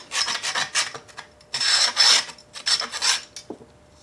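Rubbing along the edge of an old Ford F100 truck vent window channel to scrape out built-up crud, a loud, close, rhythmic rasping in bursts of strokes, ending in a brief pause.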